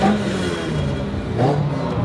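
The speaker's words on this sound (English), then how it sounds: "plenty of rev limiter and hanging" A Toyota AE86 Corolla engine hangs near the top of its revs, the note holding steady and loud with a couple of bouncing dips, as the limiter cuts in.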